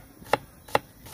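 A knife chops onion on a board at a campsite, three crisp, evenly spaced cuts sounding close and alone.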